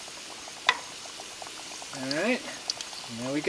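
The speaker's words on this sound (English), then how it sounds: "We are frying." Panko-crusted mangrove snapper fries in a pan with a steady, faint hiss and crackle, while a person speaks briefly over the sizzle.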